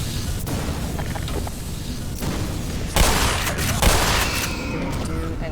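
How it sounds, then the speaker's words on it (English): Gunfire and explosive booms in the video game Black Mesa, a steady dense barrage with two heavier blasts standing out near the end, voices faintly underneath. "Start with a grenade."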